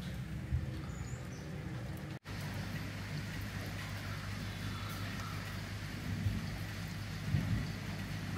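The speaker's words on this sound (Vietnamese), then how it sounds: "Đang chia sẻ thì gặp trời mưa nhé cả nhà nhé." Rain falls outdoors in a steady soft hiss with a low rumbling undertone, fairly quiet and continuous apart from a brief cut, with a few faint distant sounds.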